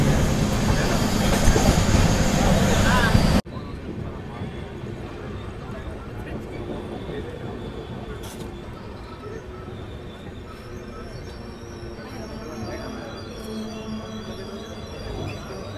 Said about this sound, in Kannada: ನಮ್ಮ ಈ ಗೋಲ್ ಗುಂಬಜ್ ಎಕ್ಸ್ಪ್ರೆಸ್ ತಲುಪಿಬಿಟ್ಟಿದೆ ತುಮಕೂರು ರೈಲ್ವೆ ಸ್ಟೇಷನ್ಗೆ